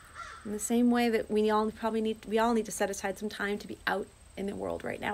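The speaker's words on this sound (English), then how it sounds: "There's a crow calling out to us." A crow caws outdoors in a few harsh, repeated calls. The calls sit under a person speaking steadily close by.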